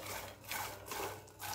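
Peanuts being roasted on a tawa are stirred and shuffled, making a faint, rhythmic dry scraping that rises and falls in repeated strokes.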